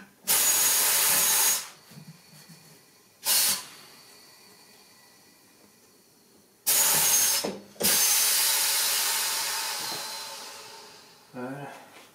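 Tire changer machine working a rear tire off the rim of a 2020 Suzuki GSX-S750 motorcycle: several loud bursts of pneumatic hissing and whirring, each lasting a second or more, separated by quieter mechanical clicks and rattles.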